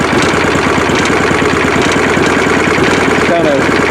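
A lawn tractor engine being built for high speed runs after its choke is switched off, a close, loud, rough idle with an uneven, lumpy pulsing that stays constant throughout.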